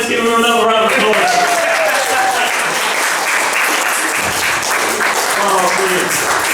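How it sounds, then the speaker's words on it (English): A crowd at a live university music gig bursts into loud, sustained applause and clapping, with a held sung or played note fading out at the start and a few voices calling out through the noise. "let's give them another round of applause"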